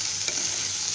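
Potatoes and chickpeas are stirred and fried in a pan, giving a brief, moderate sizzle with a faint scrape of stirring. No one speaks.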